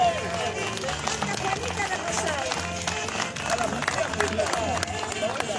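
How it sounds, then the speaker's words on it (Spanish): A crowd applauds at a tribute to Juan Velasco Alvarado, producing loud, dense, sustained clapping that swells near the end, mixed with a murmur of voices. "Un fuerte aplauso por ese hecho."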